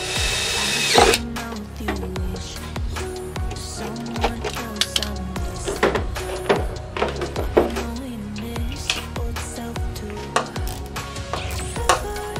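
A power drill drives screws into a third brake light on a GMT900 Yukon, with repeated whirring bursts and short mechanical stops over about twelve seconds, close and loud, and no talk.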